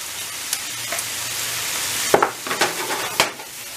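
A garlic mixture sautés in a hot pan for a sweet and sour chicken stir fry, with a steady close sizzle and a few sharp stirring scrapes and clacks in the second half.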